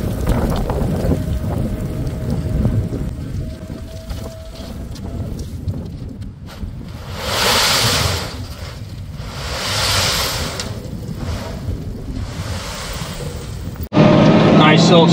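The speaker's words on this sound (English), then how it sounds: "Oh, it's windy out here." Wind gusts rush and buffet against the microphone in swelling waves, with low rumbling noise underneath, ending in a sudden louder shift.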